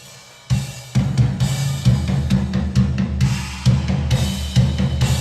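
Programmed EZdrummer drum track from a death metal album song, dense and loud with rapid kick and snare hits under crashing cymbals, starting after a brief quiet lead-in and driving continuously with no voice.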